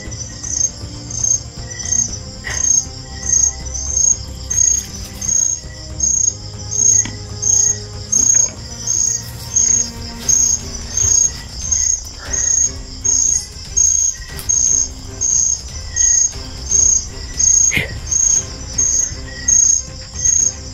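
Insects chirp in a steady pulsing rhythm through a forest, with loud repeating buzzes roughly every second and scattered bird calls around them.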